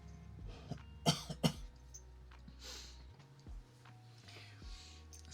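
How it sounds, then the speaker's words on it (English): A person coughs and clears their throat in a few sharp bursts close to the microphone, with low background hum and faint clicks between the coughs. "Sorry about the coughs."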